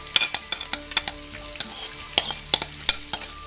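Red and green bell peppers sizzle steadily in a frying pan, with a constant crackling hiss broken by sharp clicks and scrapes from stirring close by.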